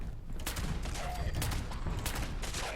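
Shots from a Bloodied Lucky Gauss Pistol in Fallout 76, a dense run of overlapping loud gunfire bursts filling the whole stretch, with no clear gaps between them.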